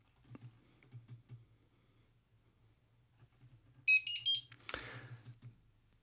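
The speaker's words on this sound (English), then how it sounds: "you'll hear the barcode scanner power up" A barcode scanner on a torque analyzer powers up with a short burst of high electronic beeps. A sharp click follows, over faint keyboard-like tapping and a low hum.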